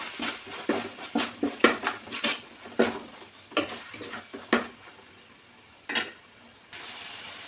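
A spoon stirs chili powder into a prawn pulao masala in a pot, scraping out a run of distinct strokes under a soft sizzle, then a final clank and a steadier hiss.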